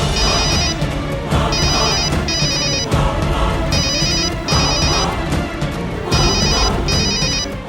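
A mobile phone rings after its number is dialled, its tinny melodic ringtone repeating in short bursts several times over a steady layer of background music.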